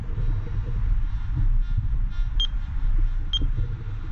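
A Makro Multi Kruzer metal detector gives two short, sharp, high-pitched beeps close by, about a second apart, over a steady low hum and hiss.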